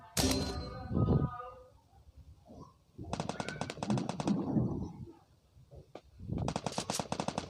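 Rapid automatic gunfire from a shooting video game comes in several loud bursts separated by quieter gaps, with faint voices in between.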